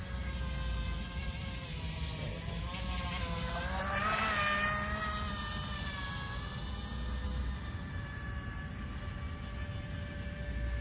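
A small remote-control boat motor on a pond runs at full throttle with a steady, thin buzzing whine that holds constant, with a brief rise and fall in pitch partway through.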